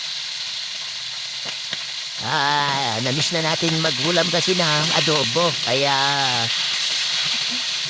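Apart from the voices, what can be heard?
pork frying in a pan for adobo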